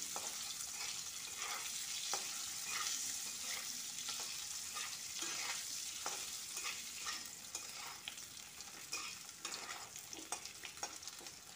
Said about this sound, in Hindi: इसी में वो फ्राई कर लेते हैं आलू, उबला हुआ आलू, इसे भी 2 से 3 मिनट तक फ्राई कर लेंगे।